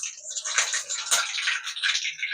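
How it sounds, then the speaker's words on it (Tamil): Mustard seeds dropped into hot oil in a kadai crackle and sizzle loudly, a dense spitting hiss with popping bursts that runs continuously up close, with no talking. "எண்ணெய் காஞ்சதுமே நம்ம கடுகு கொஞ்சம் போட்டுக்கலாம்."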